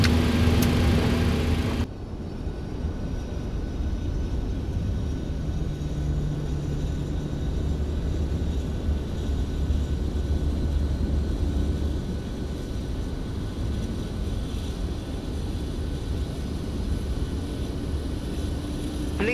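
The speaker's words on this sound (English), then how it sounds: "head outside to listen to our APU startup" A South African Airways Boeing 737 auxiliary power unit spools up on the ramp at OR Tambo, settling into a loud, steady broadband roar with a low hum that holds without pause.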